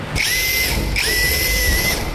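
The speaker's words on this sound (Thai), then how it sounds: "ครับตัวนี้ก็ระบบสว่านนะครับ ฟรีคลัตมันจะไม่ทำงาน จับดีเนี่ยเจาะมุดเข้าไปเลย" A power drill in drill mode drives a fine-thread screw with two loud, close bursts of high whining motor noise, each spinning up and holding steady.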